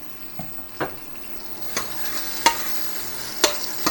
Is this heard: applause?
no